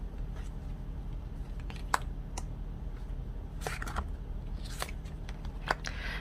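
Tarot cards are shuffled and drawn by hand, a steady soft riffling with sharp flicks and snaps of single cards being pulled, close and alone without talk.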